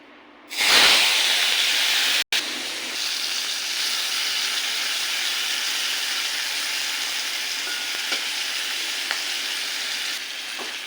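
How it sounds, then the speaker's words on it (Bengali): Peeled shrimp rubbed with salt and turmeric hit hot oil with a sudden loud sizzle that settles into a steady, bright frying hiss, broken by one brief dropout early on. "এবার তেলের উপর ছেড়ে মাছটাকে ভেজে নেব"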